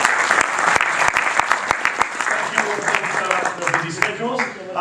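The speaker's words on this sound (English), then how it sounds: "Give your panel a round of applause," An audience applauds a discussion panel at an education investment event, close crisp clapping from a modest crowd, individual claps distinct, fading slightly toward the end.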